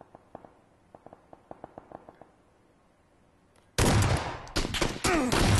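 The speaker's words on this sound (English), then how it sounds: "headshot with the SKS" SKS rifle gunshots in PlayerUnknown's Battlegrounds on Xbox One X: a run of distant, evenly spaced cracking shots, then a sudden loud close burst of gunfire and blasts.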